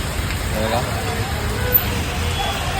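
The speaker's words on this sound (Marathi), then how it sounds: "पाऊस काय थांबायचं नाव नाही घेत" Persistent heavy rain pours down outside a shop on a flooded street, a steady close hiss with voices faintly underneath.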